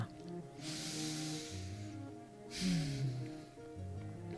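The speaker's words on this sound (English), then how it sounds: "Massive sigh triggers a massive yawn." A massive yawn following a deep sigh: two long, breathy airy exhalations, the second rising into a drawn-out voiced groan that slides downward, close and fairly soft.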